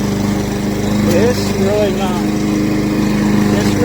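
A PowerSmart 21-inch gas lawn mower with a Briggs & Stratton engine runs at a steady, close, loud drone throughout, with a person talking over it.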